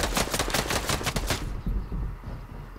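Rapid bursts of gunfire in Fortnite Battle Royale ring out as a loud, fast string of sharp shots over the first second and a half, then give way to quieter thuds and game ambience.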